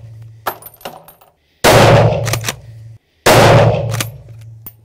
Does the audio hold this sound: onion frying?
no